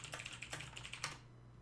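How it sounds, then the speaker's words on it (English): Quick, irregular keystrokes clatter on a computer keyboard, close and quiet, a rapid burst of clicks that stops abruptly after about a second. "I'm typing as feverishly as I can."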